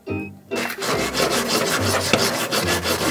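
A fish's hard scutes are scraped off with a blade in rough, rasping strokes, loud and close, following a brief quieter scrape at the start.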